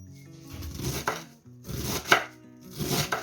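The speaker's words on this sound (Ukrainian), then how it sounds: "Попередньо приготуємо овочі, капусту кришимо." Cabbage being chopped for borscht with a knife on a cutting board, close and loud, in three bursts of rapid repeated strokes separated by short pauses.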